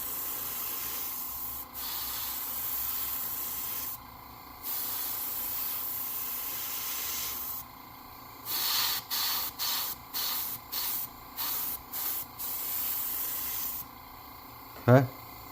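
A paint spray gun hisses steadily as paint is laid onto the back half of a golden shiner fishing lure, then gives a series of short, evenly spaced bursts near the end, faint and close.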